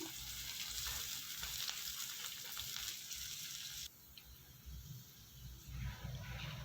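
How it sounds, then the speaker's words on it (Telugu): Sliced onions, curry leaves and green chillies fry in a pan for palak paneer as they are stirred, giving a steady broad sizzle that drops quieter partway through, then rises again with scraping. "ఉల్లిగడ్డ ముక్కలు అదేవిధంగా కరివేపాకు పచ్చిమిర్చి ఇవన్నీ వేసేసుకొని కొద్దిగా ఫ్రై అయ్యేలాగా కలుపుకుందాము"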